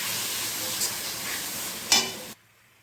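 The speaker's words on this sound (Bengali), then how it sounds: "সেটা আমি দিয়ে দিচ্ছি। ভালো করে কষতে থাকবো।" Ground masala paste sizzling and being stirred in a pan for chicken curry after tomatoes have softened, a steady close frying hiss with a brief louder scrape near the end before it cuts off.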